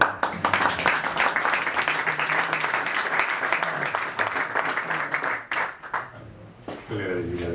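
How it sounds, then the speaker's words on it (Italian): An audience applauds steadily for several seconds at an event about the bell tower of Telese Terme, with the clapping fading out before a person begins speaking. "C'è un altro applauso."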